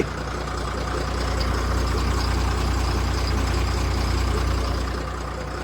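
A truck's engine, on a truck that had broken down with burst tyres, runs at a steady idle close by, giving a continuous deep rumble with no talking over it.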